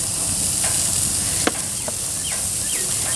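Bacon-wrapped asparagus sizzles on a grill with a constant bright hiss and a few faint pops and crackles rising above it.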